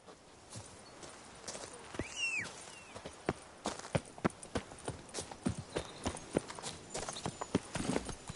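Roach, the horse from The Witcher game, walks with steady, distinct hoof clip-clops in an even rhythm, a brief snort or whinny sounding early on and ambient outdoor noise behind the hoofbeats.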